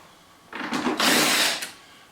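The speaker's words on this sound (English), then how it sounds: "So we'll take the 3 bolts out." A power tool whirs in short bursts while removing handlebar bolts on a 2016 Harley-Davidson Tri Glide, two quick spins followed by a longer run, close and fairly loud with no talking.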